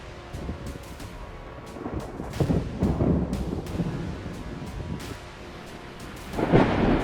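A Texas thunderstorm with rumbling thunder rolling in several waves over steady rain, fairly loud, with a sharper crack building toward the end.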